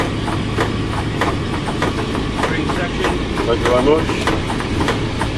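A D1062 diesel locomotive engine rumbles and idles loudly with a steady throb and rattling clatter, heard from the cab, while a voice briefly speaks over it.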